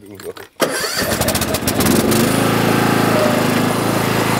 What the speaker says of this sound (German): Das ist ein Rasenmäher.